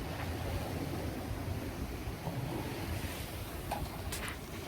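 Ocean waves and steady wind rush around a sailboat under sail heading south in a swell on a crossing to Cedros Island, a continuous broadband wash close to the microphone with no speech.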